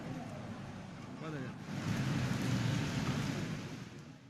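Heavy rain pours down during a thunderstorm, a dense wash of rainfall that swells midway with a low rolling rumble of thunder, set faintly under a news broadcast.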